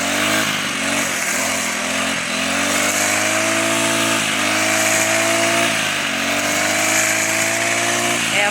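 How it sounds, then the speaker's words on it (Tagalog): A grass cutter runs steadily on a banana-growing hillside, its engine whine strong and continuous with slight pitch dips as it bites into the grass, loud and close throughout with no talk. "Kaya first time niya mag-grass cutter."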